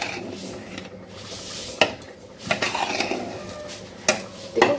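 A metal spoon scrapes and clanks against a pan while ghee is stirred into vegetable fried rice, several sharp knocks standing out from a soft, continuous rustle of rice being turned.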